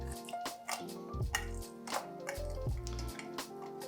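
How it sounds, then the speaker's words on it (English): Wet squishing and dripping from a lime being squeezed and juiced by hand, a few soft squelches over steady background music. "juicing my lime"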